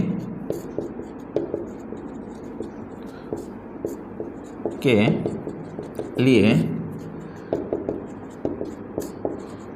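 A pen scratches across paper during an agriculture class lesson, producing short irregular strokes with a couple of louder rustling bursts, heard under a quiet room with no talking.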